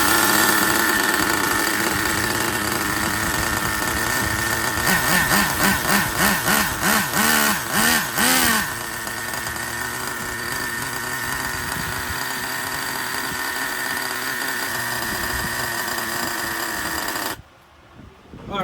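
A used Traxxas Slayer Pro 3.3 nitro RC engine runs loud and close with a steady, buzzing high-pitched drone, surging in a series of quick throttle blips partway through before settling back to a rough idle, then cutting out briefly near the end.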